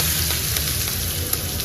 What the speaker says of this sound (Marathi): जे मिक्सर मधलं वाटण काढलं होतं ते आपण त्यामध्ये टाकून देऊ. म्हणजे चांगलं फ्राय करून घ्यायचे.